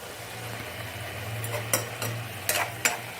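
Two green chillies drop into a simmering fish curry (small carp jhol), with soft stirring and a few light clinks of a spoon against the pot over a low steady simmer.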